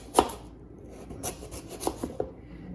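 A kitchen knife chops salmon into small pieces on a board, making a few sharp, close taps spaced irregularly, with soft scraping between them and no talking.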